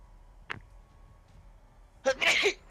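A sneeze bursts out sharply and close at a tabletop Dungeons & Dragons session. It follows a brief quiet click and faint room hush.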